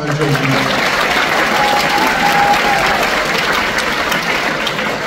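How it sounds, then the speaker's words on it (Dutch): Audience applause for a dance act at a sports gala opening in Apeldoorn, a dense, steady wash of many hands clapping at full volume throughout, with some crowd noise mixed in. "Een applaus voor de dansactie"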